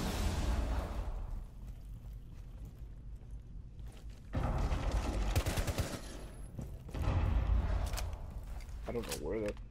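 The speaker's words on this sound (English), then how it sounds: "I don't know where that fucking explosions are coming from." Gunfire and explosions in the video game Rainbow Six Siege come as repeated bursts and heavy booms with loud stretches of shooting. Game sounds and voices are mixed in.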